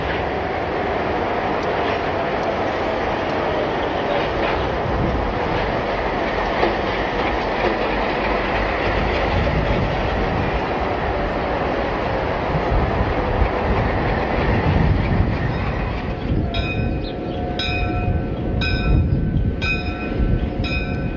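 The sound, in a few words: train on the Pacifico Railroad in Mexico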